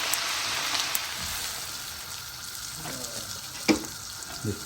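Cream poured into a pan of mushroom sauce sizzles with a steady, close frying hiss that runs throughout, with a few soft clinks and stirring sounds near the end.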